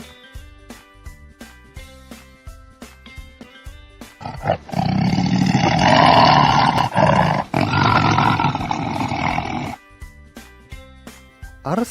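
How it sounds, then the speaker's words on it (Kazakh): A lion gives one long, loud roar lasting several seconds in the middle, set between short repeated plucked musical notes before and after it. "Арыстан."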